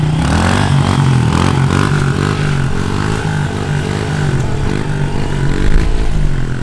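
A new dirt bike engine revs steadily while being ridden, loud and close throughout, with a continuous buzzing drone that rises and falls slightly as the throttle shifts.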